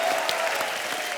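Studio audience on The Kapil Sharma Show clapping loudly for Madhuri Dixit's birthday celebration, a thick, steady burst of applause from a large crowd, close and continuous with no talk over it.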